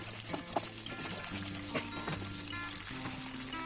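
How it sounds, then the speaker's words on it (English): Curry leaves, onion and chili fry in hot oil for vangi bath, a steady close sizzle and crackle with a few louder pops and occasional stirring scrapes, no voices. "After frying all these, you can add curry leaves and fry them."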